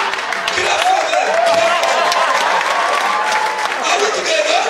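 Students in a classroom clap for classmates, a lively burst of quick overlapping claps and cheering that carries on steadily for several seconds.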